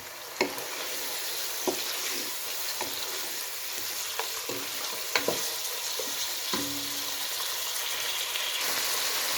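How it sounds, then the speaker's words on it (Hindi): Chicken and onion sizzle steadily in a hot pan, with a continuous frying hiss broken by several sharp scrapes and knocks of stirring, close and fairly loud, no voices. "ये चिकन और ये प्याज को हमने 2-3 मिनट तक भूना अच्छी तरह।"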